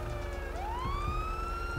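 Police car siren in a GTA 5 roleplay game, loud and sustained, its pitch sweeping upward and holding steady over a low engine rumble, with no talking.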